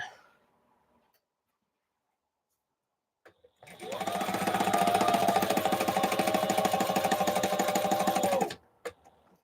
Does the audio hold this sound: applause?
no